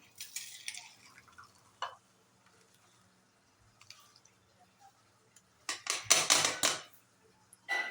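Rasam is poured into a serving vessel in a home kitchen: faint drips and clicks of liquid and utensils, then a louder splashing burst of pouring near the end, with no talk.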